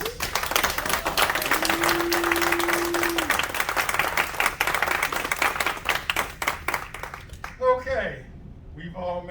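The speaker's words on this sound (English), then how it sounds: "I'd like everyone to give a round of applause, everyone, for William Gross." An audience at a magic theatre show claps in dense, steady applause that lasts several seconds and then fades, with a voice heard over the clapping and talk following after it.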